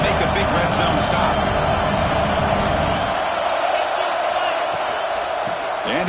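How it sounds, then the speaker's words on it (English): A dense football stadium crowd roars continuously while the home defense tries for a red zone stop. The noise is loud and sustained, with the low rumble easing after about three seconds and a commentator talking over it. "This crowd is trying to inspire this defense to make a big red zone stop."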